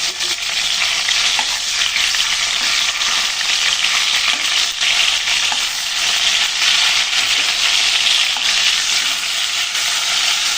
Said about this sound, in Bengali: মাছগুলোকে এখন ভালো করে ভেজে নেব